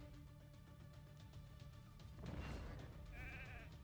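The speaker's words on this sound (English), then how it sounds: "I think we're going to try and sheep the Hilvie because we don't want to get frozen" A sheep bleats in an online arena video game when an opponent is turned into a sheep, a wavering bleat rising over background game noise, fairly quiet overall.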